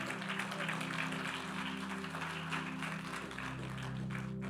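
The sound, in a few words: church congregation applause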